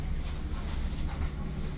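A sleeper train bound for Ho Chi Minh, Vietnam, rumbles on, heard from inside the carriage near the coupling between cars: a loud, dense low roar with faint rhythmic rattling and no talk.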